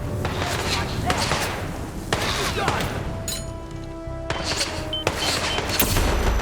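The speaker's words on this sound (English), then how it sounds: "They have so many flashbangs." Flashbang grenades go off in the stealth video game Hitman as several sharp, loud bursts over busy game noise, while a person talks throughout.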